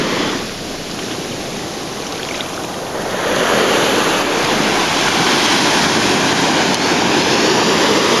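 Ocean surf rolling onto a beach on the island of Flores, Indonesia, a loud continuous wash of breaking waves that swells louder after a few seconds, mixed with wind buffeting the microphone.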